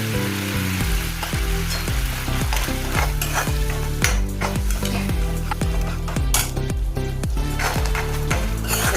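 Red chili powder, turmeric and garam masala stirred and fried in a pan for aloo matar curry, with continuous sizzling and repeated scraping strokes of a spoon, close and steady, no talk.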